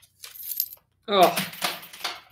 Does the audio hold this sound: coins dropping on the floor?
yes